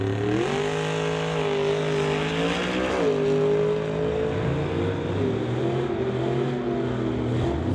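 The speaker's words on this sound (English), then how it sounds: "We'll race Brad Owens out of Bellingham in the 1955 Chevy Bel Air." Drag race between a Chevy pickup and a 1955 Chevy Bel Air, loud sustained engine roar with rising and falling revs and harmonic whine throughout, close and continuous with no talk.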